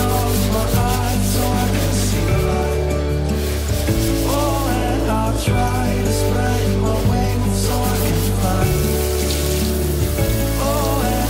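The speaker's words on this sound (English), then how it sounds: "I'm going to use this sponge and the magic paste to scrub it all away." A sponge with cleaning paste scrubbed over a sink makes a continuous rubbing swish throughout, heard under loud, steady background music.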